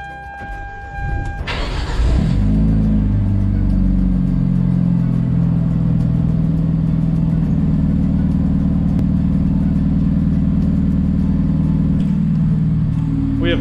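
A Hyundai Genesis Coupe engine cold-starts in cold weather: a short crank catches into a loud, steady, rumbling idle that holds close by for the rest of the clip.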